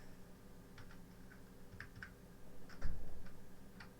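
Typing on a computer keyboard while entering a Minecraft PE server address, with scattered soft key clicks in short bursts over a steady background hum and a slightly louder tap near the end.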